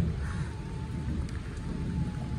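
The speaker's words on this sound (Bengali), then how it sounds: "আর এই যে বৃষ্টি পড়ছে।" Rain falls steadily during a dark monsoon afternoon outside a home, a soft continuous patter and hiss with a low rumble beneath, and no talk.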